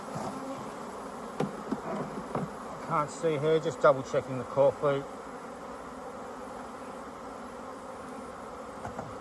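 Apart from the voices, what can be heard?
honeybees buzzing during hive inspection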